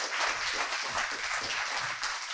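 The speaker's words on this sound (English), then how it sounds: "Give her a round of applause." Brief burst of audience applause at the FinTech North Newcastle 2024 event, a dense steady wash of clapping from a crowd with no speech on top.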